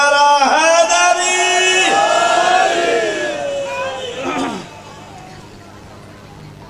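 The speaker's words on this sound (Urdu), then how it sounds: "دوویں ہاتھ بلند کر کے ختم قرآن نعرہ حیدری" A large religious gathering celebrating Eid-e-Ghadeer bursts into a loud, sustained chant of the slogan Nara-e-Haidari, many voices shouting together and echoing before the roar fades out.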